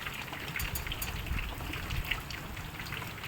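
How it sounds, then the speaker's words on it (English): Rain falls steadily on a garden, a dense even patter of drops with no talking. "Now this is a live view from my garden during the rain."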